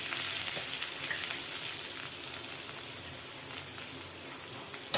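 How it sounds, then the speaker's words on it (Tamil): Onions sautéing in hot oil with mustard seeds, fennel seeds and curry leaves for a Tamil okra kulambu, a steady close sizzle and crackle that runs unbroken with no voices. "நல்லா வதங்கட்டும்."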